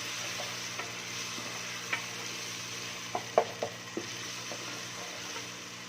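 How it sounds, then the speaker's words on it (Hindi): Tomatoes fry in a pan for a bottle gourd and chana dal curry, giving a steady, even sizzle with a few soft clicks and taps from stirring scattered through it. "इसमें हमने टमाटर डाल देना है। अच्छे से हमने इसकी भुनाई करनी है।"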